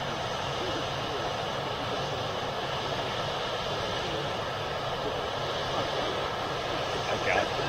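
An Etihad jet airliner makes a noisy, continuous engine roar that holds steady throughout at moderate distance.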